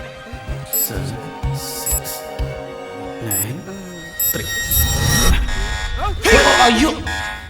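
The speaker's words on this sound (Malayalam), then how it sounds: "അയ്യോ ദൈവമേ, അലാറം അടിക്കുന്നു" A security alarm goes off in a scene from a Malayalam-dubbed action horror thriller, a buzzing electronic tone mixed with overlapping voices, dramatic music and bursts of louder action sounds throughout.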